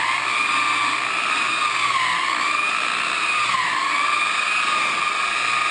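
An electric buffer polishes a plastic Jeep Grand Cherokee headlight with show car glaze, giving a steady, loud motor whine whose pitch rises and dips slightly as pressure shifts, running alone without talk.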